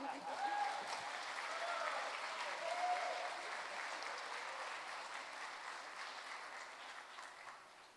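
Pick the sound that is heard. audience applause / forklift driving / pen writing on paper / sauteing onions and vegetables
audience applause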